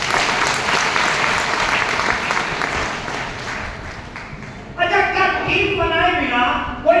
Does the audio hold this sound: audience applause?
yes